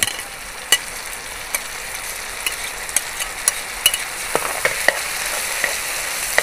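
Onions and chopped tomatoes sauté in a pan with a steady, fairly loud sizzle, broken by scattered sharp ticks and clicks of a utensil stirring against the pan.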